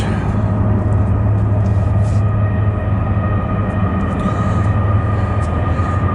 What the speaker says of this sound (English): Here comes the train in the distance.